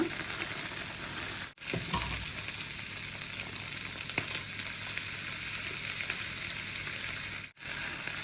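Egg clusters stir-fry gently in oil on low heat, giving a continuous close crackling sizzle with a faint occasional scrape of a utensil, alone and without speech.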